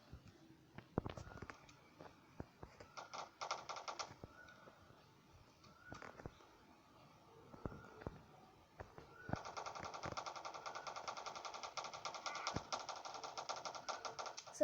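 Rope Hero 3 gunfire in a mobile game comes as bursts of rapid clicky shots, scattered at first and then a sustained automatic stream.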